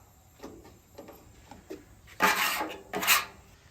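Metal scraper dragged across a griddle to clear rendered fat, a few light scrapes followed by two louder, longer rasping strokes close by, with no talking.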